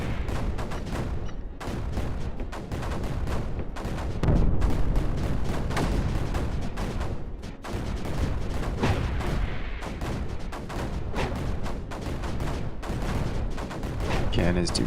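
Cannons fire without letup in the strategy video game Creeper World 4, a dense rapid barrage of booms and blasts that fills the whole stretch at a steady loud level.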